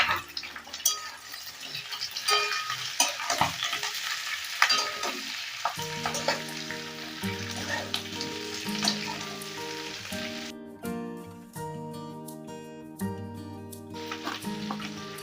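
Cabbage and capsicum fry in a pan with chilli chicken cooking, giving a lively sizzle and the scrape of stirring; background music comes in partway and plays over the cooking.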